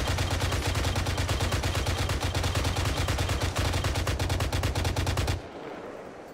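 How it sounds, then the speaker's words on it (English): Sustained rapid automatic gunfire from ARMA 3, a dense loud burst of shots in steady rhythm for about five seconds, then cutting off abruptly into quieter background. "Hey, I'm gonna be shooting."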